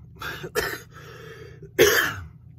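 A few harsh coughs, close and fairly loud, spaced out over a couple of seconds with quiet breathing between them.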